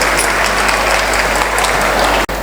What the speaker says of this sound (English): Audience, kindly give a big round of applause.